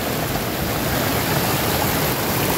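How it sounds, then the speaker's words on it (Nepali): Loud, constant splashing and rushing of water pouring from many water spouts in Dhorpatan, an unbroken close-up wash of sound. "धेरै धारा छ यहाँ"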